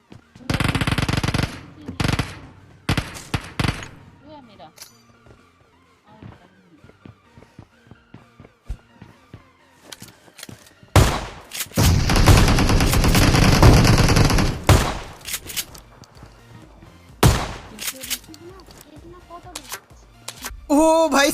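Shotgun fire in the PUBG Mobile battle game, with loud bursts of gunfire in the opening seconds and again in a long, heavy volley mid-clip, separated by quieter in-game sounds.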